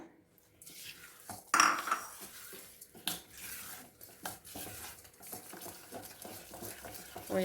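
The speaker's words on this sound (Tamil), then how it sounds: "இது கரையிற வரைக்கும் நம்ம கொஞ்சோண்டு மிக்ஸ் பண்ணிக்கலாம் நம்ம" Brown sugar is stirred into banana walnut cake batter in a bowl, with a spoon clinking and scraping against the sides in quick, uneven strokes, near and fairly quiet, without speech.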